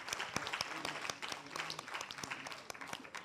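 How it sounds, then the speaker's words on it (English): An audience at a senior citizens' spelling bee competition applauds the contestants with steady, dense clapping from many hands, moderately distant and sustained throughout. "A round of applause for our spellers so far."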